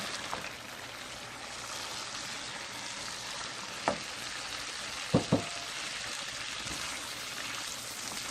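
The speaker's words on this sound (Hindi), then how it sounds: "मसाला मैंने भून लिया है। इसमें मैं गोश्त ऐड कर रही हूँ।" Mutton pieces frying in cooked spice masala for aloo gosht, a steady low sizzle throughout with a few sharp clinks of a spoon against the pot near the middle.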